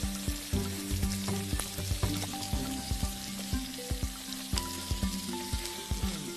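Prawns sear in a hot pan in a garlic and water spinach stir-fry, giving a close, steady sizzle with soft rhythmic scraping and stirring taps and no talking.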